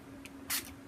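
A hand spray bottle spritzes water onto an art journal page: a quick short burst followed by a louder, fuller hiss lasting about a tenth of a second, close by against a quiet room.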